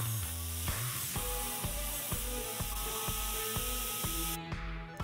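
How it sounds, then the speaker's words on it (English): Bench grinder clamped in a vise grinds metal for a rocket stove build, a steady whining hum cut by regular pulsing strokes as the workpiece is pressed on and pulled back, close and continuous. "this one's my redneck grinding machine hooked up in the vise"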